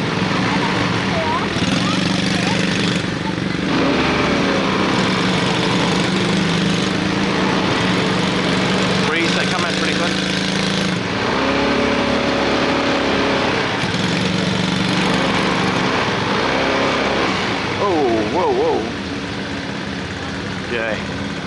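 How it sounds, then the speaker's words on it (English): An ATV engine runs steadily on Bintan Island, Indonesia, a continuous buzzing drone close by with shifting revs, while people talk over it at times. "Supposed to be for 1 hour, this ATV right here."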